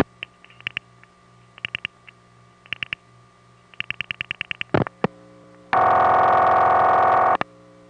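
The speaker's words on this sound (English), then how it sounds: "Often you can hear the crossbar tandem dial pulsing to the PBX." Crossbar tandem dial pulsing to a PBX on a 1974 crossbar telephone line in Belle Harbor, Queens: bursts of rapid clicking pulses in separate groups, a couple of sharp thumps, then a steady loud tone lasting about two seconds.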